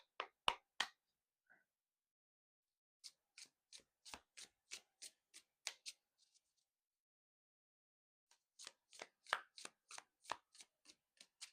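Tarot cards are shuffled in two bursts of rapid crisp slaps and flicks, close and clear, separated by near silence, with a few isolated card taps between them.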